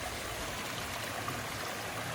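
Steady rushing water from a stream at an abandoned 1820s mountainside marble quarry, a continuous broadband flow with no voices or other sounds.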